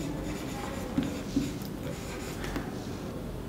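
A pen or marker scratches out a statement during a maths lesson, with soft strokes and a couple of small taps over a low background rumble.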